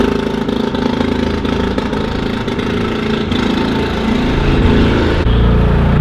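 A two-wheel-drive John Deere tractor with a scraper for cleaning cubicles on a farm, its diesel engine chugging steadily close by and rising slightly in loudness toward the end as it pulls away.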